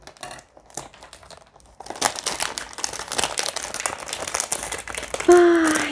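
Dense foil crinkles and tearing as the foil wrap on a perfume box is opened, rustling steadily up close with a brief sharp squeak near the end; no one speaks.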